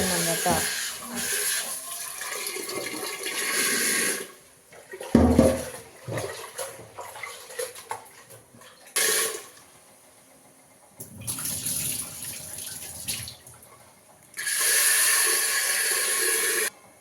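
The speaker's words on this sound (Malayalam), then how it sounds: "പരിപ്പ് കഴുകി കേട്ടോ" Tap water running while lentils are rinsed in a kitchen: gushing bursts of flowing water alternate with quieter gaps, with clatter and handling noises between the runs.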